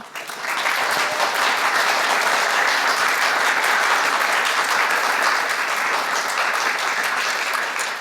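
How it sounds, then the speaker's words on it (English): A big crowd claps steadily and loudly for several seconds, the applause rising quickly and holding at full strength. "So much clapping."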